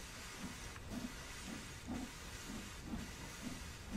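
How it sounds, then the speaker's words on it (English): A Stanier 8F steam locomotive in Train Sim World 2 puffs steam in an even rhythm of about two chuffs per second over constant hiss, moderately loud and steady. "I'll accelerate a tiny little bit so you can see the puffs of steam"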